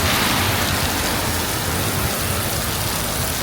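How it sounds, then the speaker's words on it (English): Heavy rain pours steadily during a gale-force storm on Malaysia's coastline, a dense, loud, unbroken hiss with a low rumble and no voices. "that's just another day in the rain for me"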